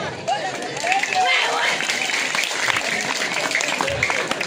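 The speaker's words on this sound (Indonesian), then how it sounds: "Tepuk tangan." A live audience at a Balinese comedy show claps together in a sustained, fairly loud burst, the dense clapping continuing evenly with faint crowd murmur underneath.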